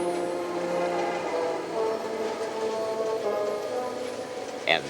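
A train worked by two diesel helper locomotives descends a steep mountain grade near Mount Shasta, a steady rumble of engines and wagons with a short sharp burst near the end and faint narration over it.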